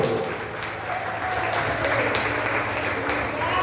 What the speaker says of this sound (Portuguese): levanta a mão para cima e aplaude ao Senhor